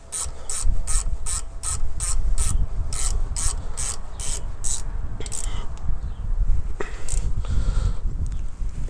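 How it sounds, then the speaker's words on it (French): A ratchet wrench tightens brake bolts on a Peugeot 207 during a disc and pad change, with a fast run of rapid clicks followed by steady grinding and scattered later clicks, close and loud. "Et là, il ne reste plus qu'à serrer."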